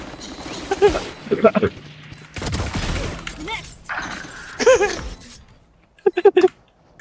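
Sharp bursts of weapon fire from Valorant, scattered shots and a rapid cluster near the end, mixed with breaking impact sounds and excited voices talking over the action.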